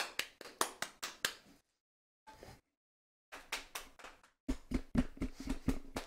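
Scattered hand claps for Bob Ross from a lone streamer, a quick run of sharp slaps, a pause, then another burst of claps close to the mic.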